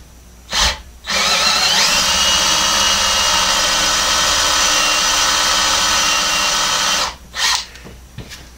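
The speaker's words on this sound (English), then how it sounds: "Something tells me this drill needs sharpened." A power drill bores a hole at a slight angle through a motorized turntable part; short blips at start and end frame a steady, loud, high whine lasting about six seconds, close up with no talk.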